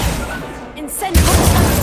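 Incendio fire spell cast in Hogwarts Legacy, a sudden whooshing burst of flame that breaks in midway and roars on loudly, following a quieter stretch of game sound with a voice calling out.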